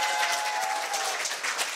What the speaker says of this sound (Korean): 대학생 사회자 또 중학생 사회자에게 다시 한번 큰 박수 부탁드릴게요